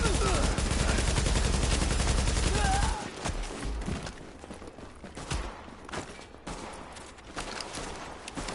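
Gunfire in the video game The Division 2 opens with a loud, sustained barrage, then drops to quieter scattered bursts and single shots.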